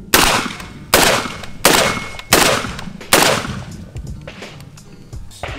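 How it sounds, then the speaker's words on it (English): A Genesis Arms GEN 12 semi-automatic 12 gauge shotgun fires five loud booming shots at an outdoor range, evenly spaced about a second apart, each followed by a ringing echo. "We just fired about 5 rounds from the 20 to 25 yard mark."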